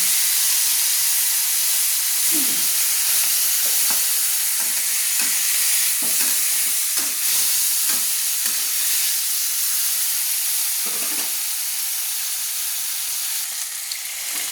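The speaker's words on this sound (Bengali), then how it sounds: "চিংড়ি মাছগুলো প্রথমে আমি ভেজে নিচ্ছি।" Turmeric-coated prawns fry in hot oil in a wok, giving a loud, steady sizzle and hiss throughout with occasional soft stirring scrapes and no talk.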